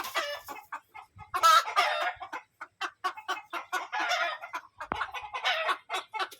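Rhode Island Red chickens cluck and chatter close by in a rapid, irregular series of short calls and longer squawks, with no speech.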